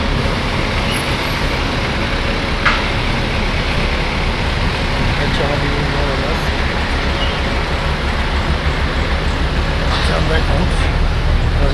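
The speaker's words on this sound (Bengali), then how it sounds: "আমরা এখন ইউএস বাংলা বাসে উঠবো" A US-Bangla Airlines shuttle bus at Dhaka airport gives off a steady, loud rumble of idling engine and road noise. The wash runs unbroken throughout, with faint background activity mixed in.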